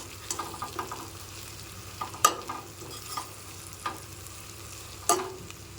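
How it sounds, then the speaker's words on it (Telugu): Chicken curry with fried cashews is stirred in a pan, a low frying sizzle broken by scraping spoon strokes and a couple of sharper knocks against the metal, close up, with no talking. "ఇప్పుడు మళ్ళీ ఇదంతా కూడా తిప్పుకుందాం అంతా కూడా కలిసేటట్టు"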